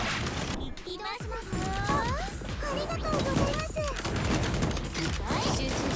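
Gunfire and battle effects in the Blue Archive video game, a busy, loud stream of shots, crashes and chirpy voices layered over game music with a voice talking over it.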